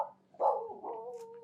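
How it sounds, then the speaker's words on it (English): A single dog barks once nearby, a sharp loud bark that trails into a short whine-like tail, with a quiet indoor background before it. "A barking dog."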